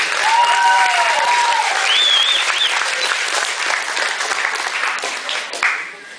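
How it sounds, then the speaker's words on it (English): Loud, sustained applause from a large crowd at a high school graduation ceremony, with scattered whistles and cheers on top, tapering slightly near the end. "Let's give one more final round of applause"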